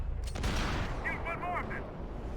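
Gunfire in Max Payne 3 cracks out in a dense, continuous volley under game sounds, with talk and voices mixed in throughout.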